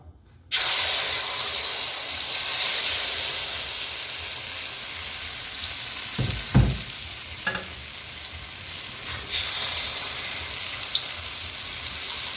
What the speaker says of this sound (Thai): เดี๋ยวจะทอดเลยนะครับ ฝั่งน้ำมันร้อนพร้อมที่จะทอดแล้วนะครับ